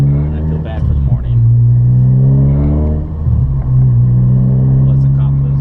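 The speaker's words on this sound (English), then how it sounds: "have a loud car, kind of." A loud car with a K24 engine swap drones with a deep, steady exhaust note that dips twice and climbs back, heard up close.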